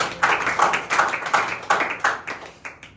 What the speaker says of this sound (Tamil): கைத்தட்டி ஆண்டவரை மகிமைப்படுத்துவார்